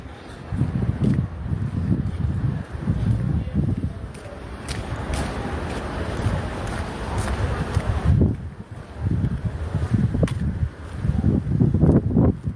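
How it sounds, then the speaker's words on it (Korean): Steady wind sweeps across a broad roadside street in Gwangjang-dong, Gwangjin-gu, Seoul on a Sunday afternoon, a continuous broadband rush with gusts swelling toward the end, while someone talks over it. "아 바람 시원하다 좋다"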